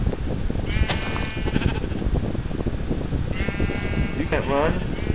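Sheep in Minecraft bleat in short wavering calls, two bursts a few seconds apart, over steady game background noise.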